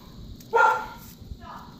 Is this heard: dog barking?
yes